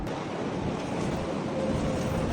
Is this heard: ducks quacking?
no